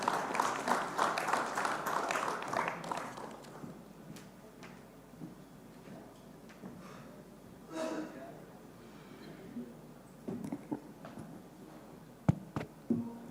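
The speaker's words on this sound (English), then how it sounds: "can we have a huge round of applause for him?" Applause from the audience at a cricket league players' draft event starts loud and dense, then fades into scattered claps, shuffling and stray bumps with faint voices in the room.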